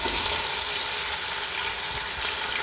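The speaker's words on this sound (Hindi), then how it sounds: "ऑयल गर्म हो गया, अब इसमें मैं मटन डाल दूँगी।" About a kilogram of mutton sizzling loudly in 1.5 cups of hot oil inside a pressure cooker, a steady dense crackle that stays even from start to finish with no talking.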